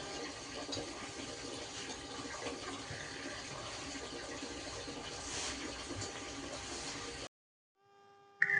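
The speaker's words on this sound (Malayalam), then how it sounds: "ടാങ്ക് നിറഞ്ഞു അപ്പോൾ വെള്ളം പോകുന്നുണ്ട് പുറത്തേക്ക്" Water from a full tank filled by a motor pump overflows and spills outside in a steady, continuous rush for several seconds, then cuts off abruptly into near silence.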